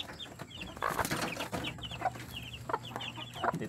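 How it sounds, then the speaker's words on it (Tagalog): Native chickens clucking close by on a farm, scattered soft clucks and short calls over a quiet background. "meron akong mga native chicken"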